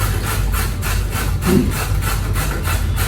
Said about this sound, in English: Take your grater, and on the coarse, larger holes, you're just going to grate that carrot.